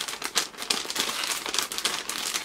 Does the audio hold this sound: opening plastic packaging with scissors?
yes